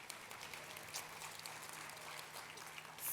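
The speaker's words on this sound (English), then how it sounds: "We can clap for her all day" An audience at a food and wine festival cooking demonstration claps steadily, a soft, continuous patter of many hands heard from a distance.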